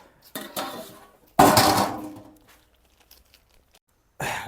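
A metal plate clatters down as a lid over a pot of peas and mushroom biriyani water coming to the boil, two loud ringing clanks with short rattles in between.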